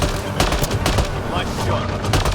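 Bursts of rapid gunfire from a firefight in the Mass Effect: Andromeda video game, sharp repeated shots rattling across the whole moment, loud and close.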